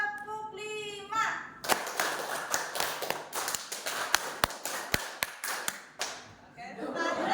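Group of people, likely students in a school class, clapping in unison in short bursts of five claps repeated twice, sharp close claps that are slightly uneven, with a voice briefly at the start.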